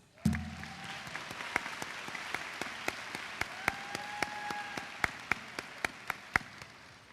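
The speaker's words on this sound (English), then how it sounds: "Please join me in welcoming them with our applause." Applause at a high school graduation ceremony in a large arena, a steady crowd patter punctuated by sharp, regular individual claps close by, with faint tones and little talk.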